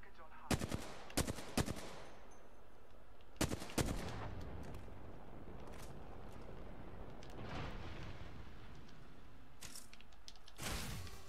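Gunfire in Apex Legends comes in sharp loud bursts of rapid shots, separated by stretches of quieter game ambience, with one more burst near the end.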